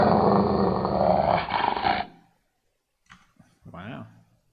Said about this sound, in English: It's kind of a dog.